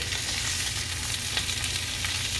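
A zucchini squash breakfast skillet sizzles steadily in a hot pan, with soft scraping of stirring mixed into a continuous, fairly loud frying hiss and no voices.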